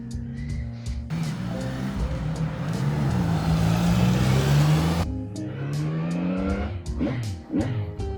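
A CF Moto 675 SR-R sport motorcycle with a Triumph-based 675cc engine accelerating hard, its revs climbing through the gears in a loud rising howl, then easing off with rumbling blips nearby.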